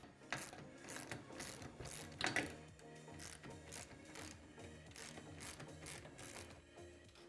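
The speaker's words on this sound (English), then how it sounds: "we're going to remove both of these bolts going through the A-pillars" A ratchet wrench backs out bolts through the A-pillars of a Honda Talon UTV, with rapid repeated clicking strokes in steady bursts and a sharper metallic clank partway through, close and clear with no talking.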